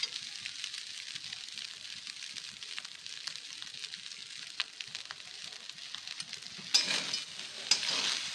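Home cooking in a frying pan with coriander leaves already in, as soy sauce goes in: a steady low sizzle with scattered stirring ticks, then a louder hissing burst near the end as the liquid hits the hot pan.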